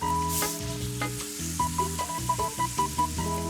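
A chemical volcano reaction from a toy mystery pack fizzes and bubbles after a reagent is added, a crackling sizzle with rhythmic pulses over steady tonal background sounds.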